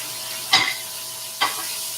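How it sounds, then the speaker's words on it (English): Loco moco patty frying in a pan with soy sauce and pepper, giving two brief sizzling bursts about a second apart over a steady low hiss, close and fairly quiet. "Sizzle, sizzle, sizzle."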